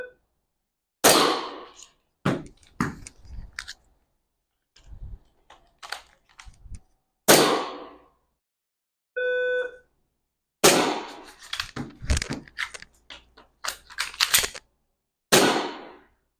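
A handgun fires during a strong-hand-only reload drill, with the magazine dropped and a new one inserted. Sharp, loud single shots are spread out with gaps, followed by metallic clacks and handling noise and a short electronic beep partway through.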